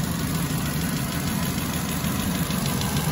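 A Mercedes B170 Sport engine idles, a steady, even low hum with a faint rhythmic pulse, close and continuous with no voices.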